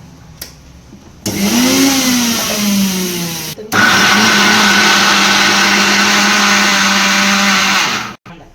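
A kitchen mixer grinder grinding ingredients in loud close bursts, starting with a rising whine, stopping briefly, then running again as a steady high-pitched motor drone before cutting off.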